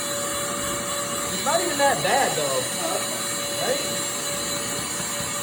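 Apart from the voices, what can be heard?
vacuum cleaning a motorcycle air filter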